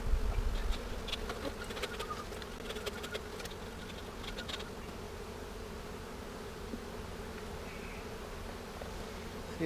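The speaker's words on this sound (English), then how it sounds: "there were thousands of bees everywhere" A dense, continuous hum of thousands of honeybees buzzing close by around a hive, a low droning swarm that never lets up.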